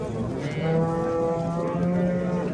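A cow moos twice at a livestock market in long, loud, drawn-out calls, close by, with a steady background hum and no talking.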